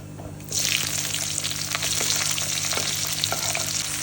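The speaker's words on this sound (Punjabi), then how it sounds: "ਇੱਕ ਚਮਚਾ ਜੀਰਾ ਇੱਕ ਚਮਚਾ ਹੀ ਅਜਵਾਇਣ ਪਿਆਜ਼ ਪਾ ਲੈਨੇ" Chopped onion drops into hot oil already holding cumin and carom seeds and bursts into a loud, steady sizzle that continues evenly throughout, with light stirring clicks, no voices, while cooking an arbi (taro root) sabzi.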